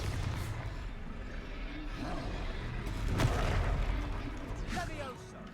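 A blasting spell explosion in Hogwarts Legacy booms out amid combat noise, a deep rumbling burst swelling in the middle, with a voice shouting over it.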